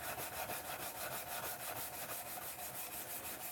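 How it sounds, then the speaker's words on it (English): Hand sanding with 120 grit sandpaper, rapid rhythmic back-and-forth strokes rasping steadily and evenly, close and alone without any talk. "We'll just keep sanding"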